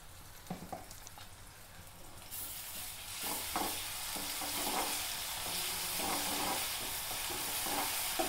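Ginger garlic paste frying in a pan as chenna dal and okra fry is cooked, a faint quiet start that turns into a loud, steady broadband sizzle after about two seconds, with soft stirring scrapes throughout.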